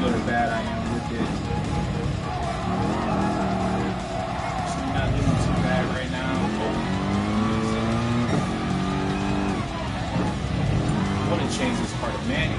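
A race car engine in Gran Turismo Sport drones and revs continuously, rising and falling in pitch with brief tire squeal, while someone talks over it.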